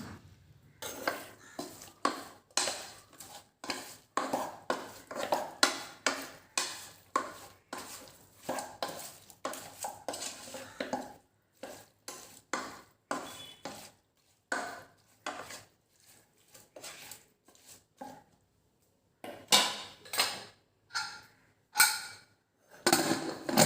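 A spoon repeatedly scrapes and knocks against a metal cooking vessel while garlic, ginger, green chili, tomato and onion are stirred together, with irregular bursts of clattering separated by brief pauses, close and clear.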